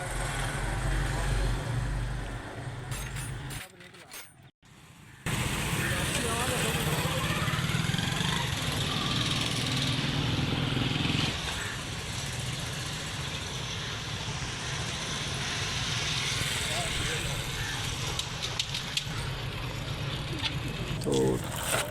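Motorcycle engine running steadily during a short test drive after a front sprocket change, a continuous loud droning hum with wind rush and a brief dropout partway through, with someone talking over it.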